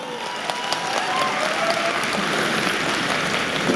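Sustained applause from about 4,000 people in a stadium at night, a dense wash of clapping that stays loud and steady throughout.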